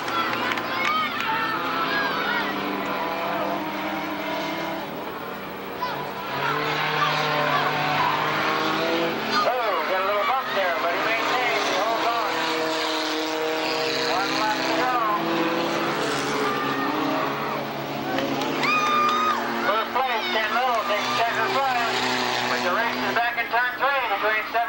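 Race cars roar around the Tonopah Speedway dirt track in 1989, several engines rising and falling together as they pass, steady and loud throughout, with a commentator talking over the noise.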